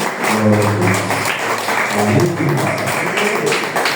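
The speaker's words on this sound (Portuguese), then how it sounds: "Palmas para Jesus." A church congregation at a Pentecost worship service claps for Jesus: steady, dense clapping fills the room, close and loud, with voices and sung or spoken tones mixed underneath.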